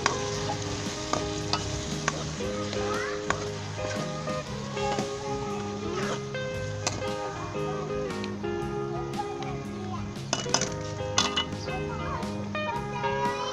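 Beef korma with whisked yogurt being mixed in a pot, a low simmering sizzle with irregular spoon scrapes and clinks, while faint voices and a tonal hum sit in the background.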